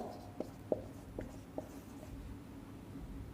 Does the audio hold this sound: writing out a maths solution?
yes